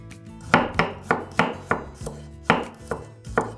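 A knife finely chops shallots, garlic and ginger in about nine crisp, close strikes at an uneven, unhurried pace, with no talk.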